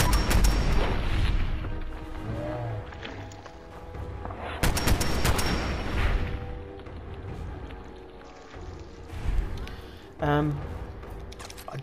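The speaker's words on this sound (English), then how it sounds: "I've always found automatic weapons in this game to be very satisfying to use." Automatic weapon gunfire in Fallout 4, loud rapid bursts and booming shots spread across the stretch, with heavy impacts and a spoken voice in between.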